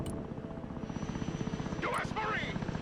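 Military helicopters in the Broken Arrow war strategy game, a steady rotor thrum with pulsing blade chop throughout, while a voice speaks over part of it.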